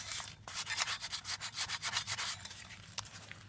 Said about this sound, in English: All I'm trying to do is just take some of the outside scale and rust off before I put this back together.